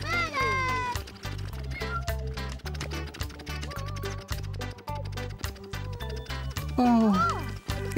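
A cartoon black cat meows repeatedly, rising and falling in pitch, over a busy bouncy music backing with a louder cry near the end.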